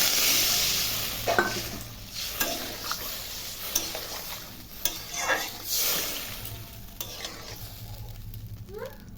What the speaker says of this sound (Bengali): ফুটে গেছে দেখো টকবক করে